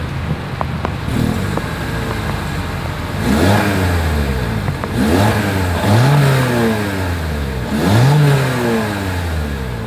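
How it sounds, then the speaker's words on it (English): A 2023 Toyota Corolla Hatchback's exhaust is revved three times, each rise and fall sweeping up and back down over a steady idle. The sound is loud and close, with no talking. "As always, here is that exhaust clip."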